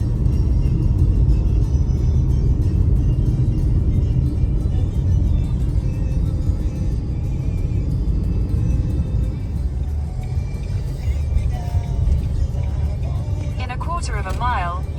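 Rental car driving along an island road, heard from inside as a steady, loud low rumble of engine and tyres that continues without a break, with brief faint voice sounds near the end.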